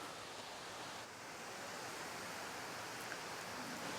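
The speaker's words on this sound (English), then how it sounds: "it's definitely not the biggest waterfall by any means, but still very tranquil, very quiet" A small waterfall in Nakhon Nayok, Thailand, flows with a soft, continuous broadband wash, steady and fairly faint with no voices over it.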